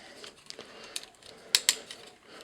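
Ratcheting joints of a ToyWorld TW-D01 Roar toy figure being posed, giving a few faint scattered clicks and then two sharp close ratchet clicks in quick succession, with no talk.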